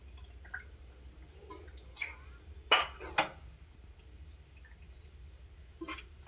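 A spice-coated metal pot is rinsed with water while cooking prawn bhapa, giving quiet drips and light metallic clinks, with two short splashing bursts of running water in the middle and near the end.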